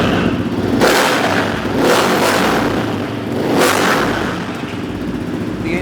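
A Yamaha YFM 700R quad bike engine starts up and revs loudly nearby, with repeated rising throttle blips over a rough idle, no talking.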